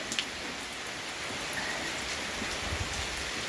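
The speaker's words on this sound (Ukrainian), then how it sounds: "Їх зараз дощик миє." Steady rain falls on garden plants in a village plot with amaranth, tomatoes and corn, a dense continuous patter that stays even and close throughout, with no voices.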